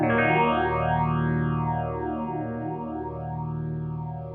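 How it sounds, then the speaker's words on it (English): A Boss phaser pedal set to full depth and strong resonance sweeps a sustained guitar tone, deep notches gliding up and down in slow, swirling arcs, loud and steady with a feedback-rich, almost delay-like shimmer. "It almost sounds like it's got a delay on it because of that resonance feeding back the signal into itself."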